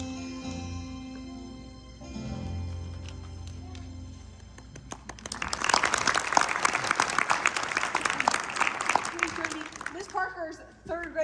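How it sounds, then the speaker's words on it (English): An audience at a school spring concert breaks into sustained applause for a third grade class. The clapping swells in after a stretch of music and voices and keeps going strong to the end. "Give them a very round of applause."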